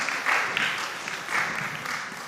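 An audience claps for a school team at a quiz competition: steady, fairly close applause for about two seconds with slight surges, and no talking over it.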